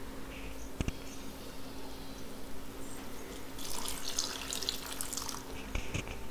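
Water splashes and trickles into a pot of simmering onion sambar, a broad hissing pour that swells midway and continues steadily to the end, close and moderately loud over a low kitchen hum.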